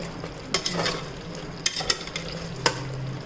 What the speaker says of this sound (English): fry it a little, and to this now I am going to add grated coconut.